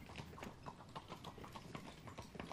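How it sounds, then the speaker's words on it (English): Horses gallop in the visual novel game Steam Prison, a quiet, rapid, rhythmic drumming of hooves that continues evenly for a few seconds. "The horses continued racing through the blinding whiteness."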